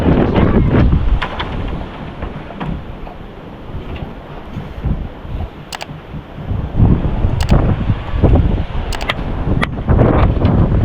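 Gusty habagat monsoon wind battering a microphone outdoors, loud roaring surges rising and falling in waves, with sharp crackling bursts of buffeting.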